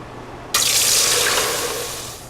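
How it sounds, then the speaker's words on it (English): A short splash of water poured into a pan in a kitchen, starting abruptly and running as a loud steady stream that gradually tapers. "I'm gonna go ahead and add just a little bit of water, thin it out."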